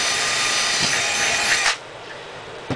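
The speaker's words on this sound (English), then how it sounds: "you can just drill through it" A power drill bores a 17/64 bit through a PVC cap, a steady, loud grinding whir lasting under two seconds before it abruptly stops, leaving a quiet tail with a faint knock at the end.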